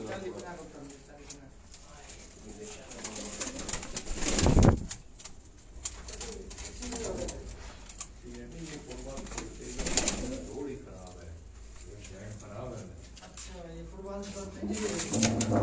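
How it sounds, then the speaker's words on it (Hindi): Pigeons coo softly and repeatedly in the background while people talk nearby; a brief louder thump or rustle occurs partway through. "ये हमारे पास चंद मखसूस कबूतर हैं।"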